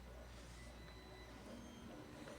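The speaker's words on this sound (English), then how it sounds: "So here's our new guitar printer thing printing." A 3D printer printing a guitar part gives a very faint, steady mechanical hum with soft motor whine under broadband room noise.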